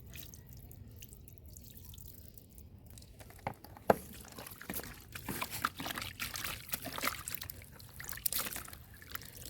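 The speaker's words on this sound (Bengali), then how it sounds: "এখন আমি শুটকিটা ধুয়ে নেব খুব ভালো করে" Dried loitta fish washed in water, with quiet splashing, dripping and trickling, a sharp clunk near the middle, then busier rinsing sounds toward the end.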